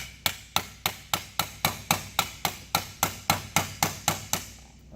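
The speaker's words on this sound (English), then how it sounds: "give it a couple whacks" Hammer striking a punch to drive out a lock staked pin on a firearm magazine conversion part, about fifteen sharp evenly spaced metallic blows, close and loud with no talking.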